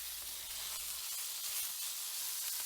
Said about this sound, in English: In goes the venison, making sure to spread it out for a good sear on as much surface area as possible.